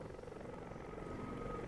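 Helicopter in a tactical military video game, a steady low rotor drone that holds even and fairly loud for its whole short length, with no talk over it.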